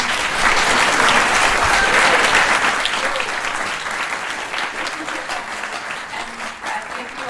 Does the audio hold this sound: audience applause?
yes